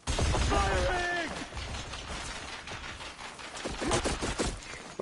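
Gunfire in the video game Horizon Forbidden West, a burst of shots mixed with game effects and tonal sounds, followed by further bursts of impacts, loud and close throughout.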